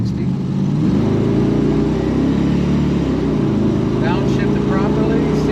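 A 1977 Chevrolet Corvette's numbers-matching L48 350 V8 pulls up through the revs, its steady low engine drone rising in pitch as it accelerates toward 60 mph, with a brief upshift dip partway through.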